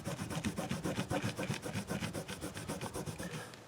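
A cloth rubs buffing compound off the wooden neck of a Godin Artisan ST guitar in quick back-and-forth strokes, a rhythmic, fairly close scrubbing that eases off at the end with no talking.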